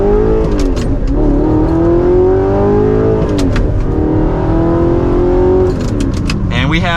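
An Audi R8 accelerates hard to merge onto a highway, its engine climbing in pitch through several gears with brief drops at each shift, loud and close from inside the car, with someone talking over it.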